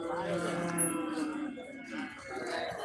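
Cows lowing in a steady stretch of moos at a cattle market, fairly close, with some faint voices and farmyard noise underneath.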